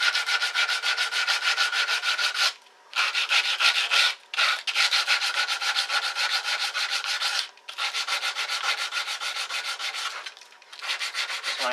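A guitar fretboard is sanded with 220 grit sandpaper in long, steady rubbing strokes, close and clear, with a few brief pauses between passes and no talking.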